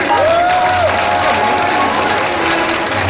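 A stadium crowd at a SeaWorld San Diego orca show applauds in a thick, continuous wash, with a bright whistle-like tone rising and holding near the start over a low steady hum.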